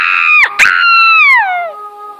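In a cartoon parody, a bird lets out a loud, shrill screech, broken by two sharp breaks, then a long wail that slides downward and fades.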